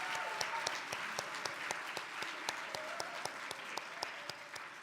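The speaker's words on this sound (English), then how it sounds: "Let's give them a big applause" Luncheon crowd at a convention hall of fame event clapping steadily, a dense, even wash of applause with a few sharper claps standing out, continuous throughout.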